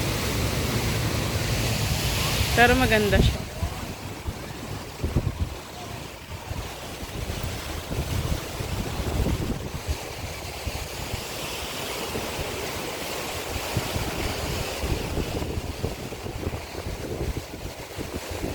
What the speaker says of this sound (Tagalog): Grabe lakas ng alon.